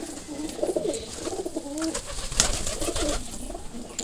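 Pigeons in their loft give soft, close cooing calls that roll and warble against a low background hiss, with a brief sharp knock partway through.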